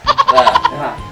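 A goat gives a quick, loud, wavering bleat of several rapid pulses that trails off within about a second.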